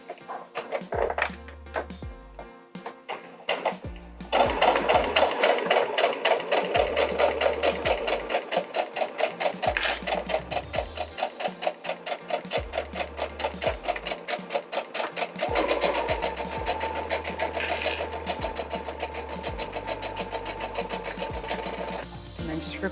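A sewing machine stitches the seam of a boot toe panel, running in steady motor bursts with a brief reverse at the end, close and clear, with pauses between runs and a voice speaking in places.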